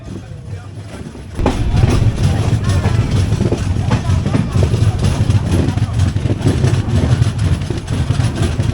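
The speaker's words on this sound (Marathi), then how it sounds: "ट्रेनची शिट्टी वाजते आणि सुरू होतो कोकण रेल्वेचा अविस्मरणीय प्रवास" A Konkan Railway train at Chiplun station rumbles loudly with a deep engine drone and clattering wagons after a quieter opening, but no distinct whistle stands out, and the platform noise stays continuous.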